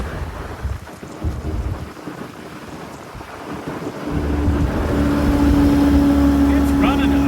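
A 1954 Willys Jeep CJ3B engine that burns oil and smokes runs loudly close by, a rough broadband roar that swells and holds steady with a droning tone in the second half, with buffeting like wind across it.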